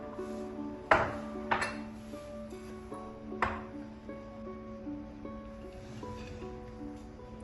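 Cocoa powder being mixed into chocolate cake batter in a bowl, with a few distinct clinks of a utensil against the bowl and soft scraping over a steady background hum with ringing tones.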